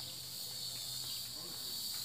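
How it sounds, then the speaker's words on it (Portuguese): Cicadas sing under trees in a dense, steady high-pitched buzz, continuous and even throughout with no talk. "eu tô aqui debaixo dessas árvores, ouvindo os cantos das cigarras"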